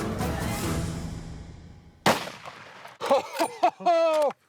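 A single loud rifle shot cracks out during a lesser kudu hunt in Tanzania, its report rolling away and decaying over a couple of seconds before people begin talking close by.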